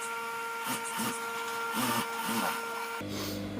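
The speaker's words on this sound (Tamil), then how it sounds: "லைனிங்க்கு மேலால அப்படியே தையல் போட போறேன்." A sewing machine stitches saree blouse lining, its motor giving a steady droning whine with a few short stops and restarts, close and fairly loud.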